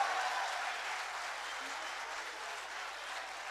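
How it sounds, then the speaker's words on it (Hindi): Steady audience applause at an Urdu poetry mushaira, a broad wash of many hands clapping that continues evenly at moderate loudness without a break. "तालियां बजाइए, बताइए इनको रहना चाहिए, कितनी देर रहना चाहिए?"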